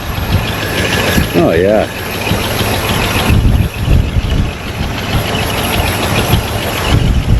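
A 500 cubic inch engine in a front-wheel-drive mid-engine project idles close by with a steady rumble and light ticking from the lifters, while someone briefly talks over it.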